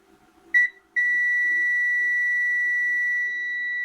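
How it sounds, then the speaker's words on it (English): A multimeter continuity tester beeps while probing a Nexus 350W FSP ATX power supply under repair, a brief high tone, a short gap, then one long steady beep that holds for about three seconds. "it's just that it's 7 ohms, so it beeps"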